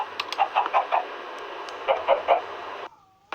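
Several chickens in Minecraft cluck in quick bursts, two clusters of short calls close by, before the sound cuts out into near silence.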